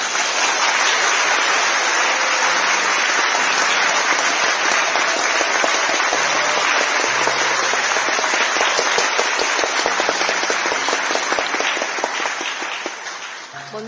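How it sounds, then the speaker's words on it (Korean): Seminar audience in a hall applauding to welcome the speakers, dense loud clapping from many hands held steady for about twelve seconds before thinning out at the end. "여러분들의 뜨거운 박수로 맞이해 주시기 바랍니다."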